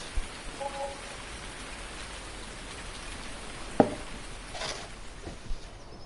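Steady, faint rain patters throughout in Farming Simulator 19, a soft continuous wash with a few brief ticks and knocks on top, no voices.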